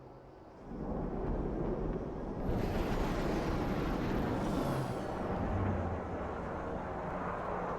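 A hovering jet aircraft descends slowly to land in a military strike-training video game, its engine a loud, continuous broadband roar that swells in after a quieter start and holds steady throughout.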